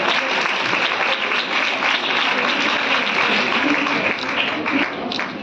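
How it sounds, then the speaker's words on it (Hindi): Audience applause at a women's college event with a minister present, cheering six student athletes honored for district sports achievements; loud, dense clapping continues steadily throughout and eases slightly at the end. "जोरदार तालियां हो जाए"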